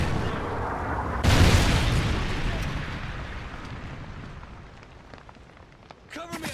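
A friendly Trinity rocket comes in during a prison break video game: a sudden loud roaring burst breaks in after a second, then fades into a long rumbling decay, with some faint clicking near the end.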